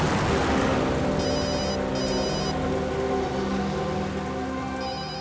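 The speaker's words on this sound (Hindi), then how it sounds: "दयाबेन का फोन।" A phone rings in repeated short electronic bursts over a steady rushing, rain-like background hiss, with no talking.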